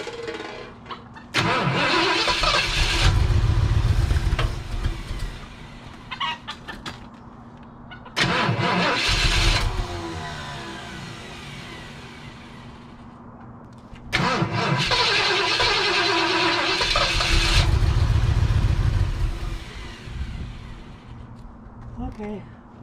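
A 1973 Ford Ranchero engine cranks in three separate attempts, each a loud grinding starter burst of several seconds that catches briefly before dying, with pauses between tries and people talking nearby.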